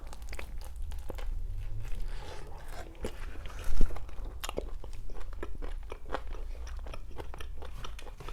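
Someone bites and chews a burger up close, with wet crunchy mastication and soft crinkling of wrapping repeating steadily, and one louder bite near the middle.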